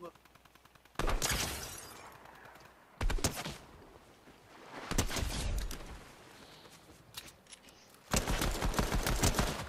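Video game gunfire in bursts, with rapid automatic fire crackling in several loud stretches separated by quieter gaps, close and dense, with keyboard clicks and players talking faintly beneath.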